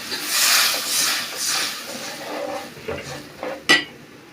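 Mixed spices being sautéed in a pan, with scraping, stirring strokes and clinks of a utensil against metal over a light sizzle, ending in a sharp clank, close and without talk.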